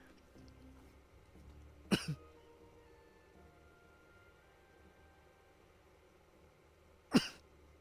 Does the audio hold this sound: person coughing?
yes